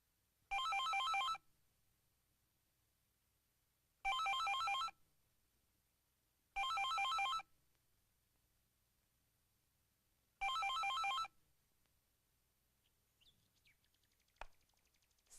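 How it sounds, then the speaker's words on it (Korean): Telephone ringing unanswered in a quiet Korean home, four separate bursts of electronic ringing a few seconds apart with silence between, then faint rustling. "사모님 전화를 안 받아요."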